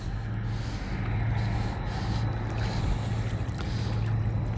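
A barge cruises along a river, a low steady engine drone with a faint rumble under breezy outdoor air and wind buffeting the microphone, heard continuously from a moderate distance.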